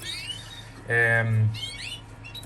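A canary chirps in quick, thin, high sweeps at the start and end, close by, while a voice briefly speaks over the middle.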